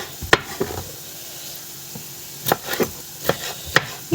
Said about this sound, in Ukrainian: Нарізаю перчик.